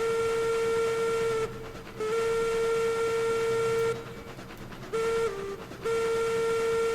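A steam locomotive whistle in the Railroads Online game sounds in long sustained tonal blasts, with brief breaks and a dip around the middle, loud and close with a steady rail rumble beneath.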